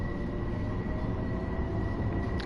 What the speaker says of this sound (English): Another train passing us by here.